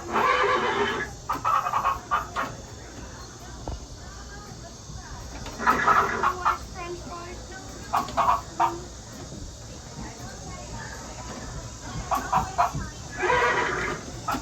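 Repeated whinnies from an animatronic horse on Tom Sawyer Island ring out at moderate distance amid a noisy outdoor crowd, with people talking throughout.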